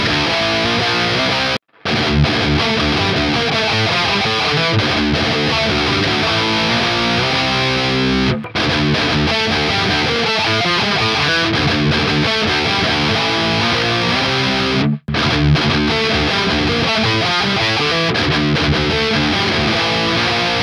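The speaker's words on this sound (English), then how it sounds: "let's see if we can hear some differences from the gain tones. So here we go, now for some gain." An electric guitar played through high-gain distortion, a dense, loud wall of saturated riffing with sustained chords, broken by a few abrupt brief stops.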